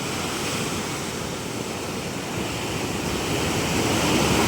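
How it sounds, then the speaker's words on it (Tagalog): Steady, roaring surf of waves breaking continuously against a resort fence nearby, a dense wash of water noise with wind and no voices. "doon na napisa yung alon sa bakod ng resort"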